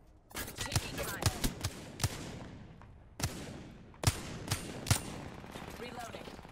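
Gunfire in the Apex Legends battle game rings out as a string of sharp cracks, single shots and short bursts spread irregularly over a constant background rumble, fairly close and moderately loud.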